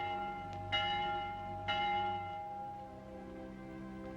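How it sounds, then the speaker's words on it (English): Vespers church bell tolling twice with long ringing overtones, each strike swelling and fading slowly into a sustained hum, clear and fairly close with no talk. "The Vespers bell."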